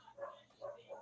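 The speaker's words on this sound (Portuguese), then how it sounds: "Minhas cachorras da Nara latindo" Dogs barking indoors in a quiet room, three short, fairly soft barks spaced about a third of a second apart, heard alone with no talking over them.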